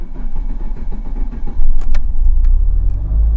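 An old Dodge Daytona's engine cranks over in a quick, rhythmic churn for about a second and a half, then catches into a louder, low rumbling idle, close by.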